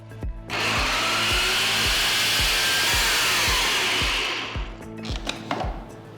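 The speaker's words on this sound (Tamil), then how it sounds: "முதல்ல இது 2 மட்டும் சேர்த்து அரைச்சிக்கலாம்." A mixer grinder coarsely grinds roasted sesame seeds and peanuts: a loud, steady whirring motor runs for about four seconds with a rhythmic chopping pulse, cuts out, then pulses briefly again.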